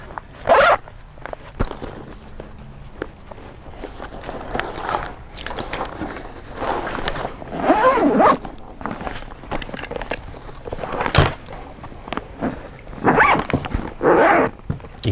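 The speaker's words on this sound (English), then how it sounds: "You can see how smooth the zippers are." Zippers on a GWA Dyneema Citadel bag are pulled open in several short, crisp runs spread across the span, close and clear, interspersed with rustling and handling of the fabric.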